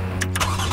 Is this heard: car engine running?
yes